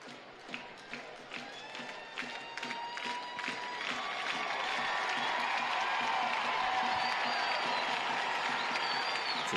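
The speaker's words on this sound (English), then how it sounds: "It's a big roar from the crowd." A large stadium crowd at a New Mexico United versus Sacramento Republic soccer match swells into a sustained roar, rising from scattered claps and cheers to a loud, continuous wall of noise; a commentator speaks faintly under it.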